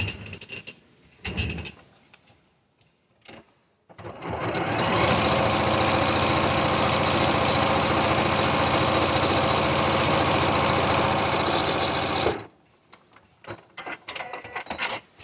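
A sewing machine runs steadily for about eight seconds, stitching along a line on a quilt block, loud and continuous with quieter handling sounds before and after.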